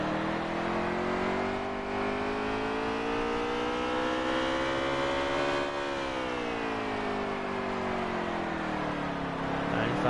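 Race car engines roar continuously in the NASCAR Heat 3 video game, their pitch rising and falling smoothly as the cars accelerate and ease off through the corners on track.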